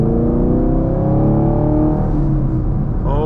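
A 2024 Chevy Camaro SS Collectors Edition V8 revs loudly and up close, its deep exhaust note rising and sustaining, then sweeping upward again near the end, with no talking.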